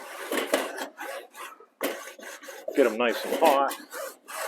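A wooden paddle is scraped up and down across hot barbecue grill grates in rough, rasping strokes at close range, with a voice talking over part of the scraping.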